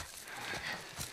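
Horse hooves clop and a horse whinnies in The Last of Us Part II, a brief close burst of hoofbeats over game ambience.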